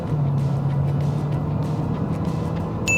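An SUV in Sport mode revs and pulls hard under acceleration, a steady droning engine note holding near and loud for a few seconds with no talking.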